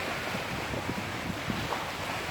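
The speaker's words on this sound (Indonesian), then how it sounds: "Ombaknya lagi agak kenceng, guys." Rough surf rolls in at Tanjung Tinggi beach on Belitung with a constant hissing wash of waves, mixed with wind buffeting the microphone. No one speaks.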